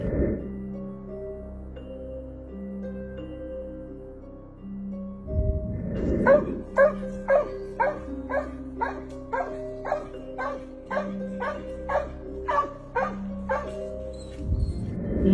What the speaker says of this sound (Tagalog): Nagtataka ang nagbi-video kung bakit tahol ng tahol ang aso sa taas ng puno kahit wala namang naroon